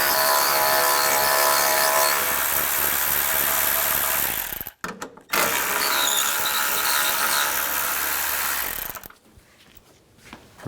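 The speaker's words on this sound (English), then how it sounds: "Take these two screws out, use a 7mm socket." A power tool with a 7mm socket backs out screws on a 1992-present Ford E-250 van's headlight bezel, a loud continuous whirring ratchet-like buzz that stops briefly mid-way, resumes, then cuts off, with no talking.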